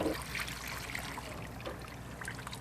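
Fish waste poured into a compost system, a soft, steady trickle and dribble of liquid heard close by at low volume for a few seconds.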